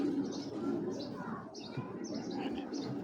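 Pigeons at a loft of high-quality Giribaz and Military breeds coo softly and repeatedly in a low murmur, with faint chirps above and someone talking over them throughout.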